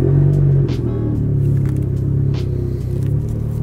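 A Nissan Silvia engine turns over and settles into a steady, loud rumbling idle, close up, with no talking.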